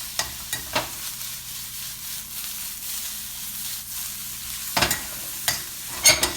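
Oyster mushrooms with shallots and garlic sizzle softly in a hot sauté pan, a steady low frying hiss broken by occasional stirring clatters and scrapes, with a louder burst of activity near the end.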